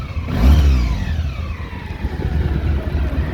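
A 2000 Honda ST1100 motorcycle with about 60,000 km, its warm engine started and idling at close range, with a strong low rumble that swells early on and then settles into a steady, uneven idle.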